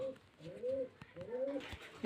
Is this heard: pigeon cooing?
yes